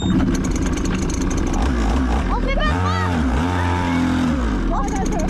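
YCF motorcycle engine in Ecuador running steadily, then revving up and down in two rising sweeps, loud and close, with people talking over it.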